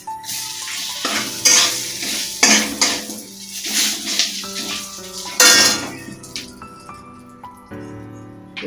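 Bay leaf and a dried red chilli dropped into hot oil in a frying pan at home, with close clatter of a metal spoon and pan, stirring knocks and a light sizzle throughout while cooking a Bengali mixed vegetable curry.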